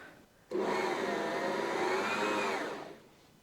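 A Janome MyExcel 3018LE sewing machine winding a bobbin starts up after a quiet moment, running as a steady, close motor whir with a slight rising pitch for about two seconds before winding down.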